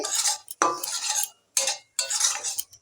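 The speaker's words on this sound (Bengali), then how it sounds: "সুজিটা বেশ লাল মতো ভাজা হয়ে গেছে" A spoon scraping and stirring semolina as it roasts reddish in a pan with a little powdered milk, in four long rasping strokes split by short gaps, close and fairly loud.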